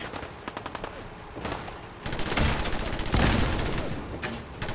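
Rapid gunfire and ship cannon blasts sound in a battle in the video game Fallout 4: sparse cracking shots at first, then a heavier run of loud, booming volleys.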